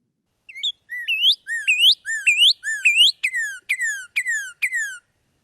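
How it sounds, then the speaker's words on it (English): A northern cardinal sings a clear whistled phrase of rising slurred notes, then switches to a run of descending down-slurred whistles, about nine notes in a steady rhythm, close and alone against silence. "it sounds like a northern cardinal"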